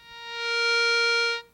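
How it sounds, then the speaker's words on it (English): A Garrett Scorpion metal detector's steady electronic tone swells in on detecting metal, holds loud and even for about a second, then cuts off sharply. "Any increase of sound caused by the detection of metal"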